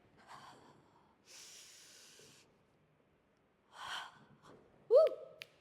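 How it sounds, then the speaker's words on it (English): Audible exhalations during a core exercise: a breathy hiss of air, a pause, then another soft breath, ending in a short voiced exclamation. "Exhale."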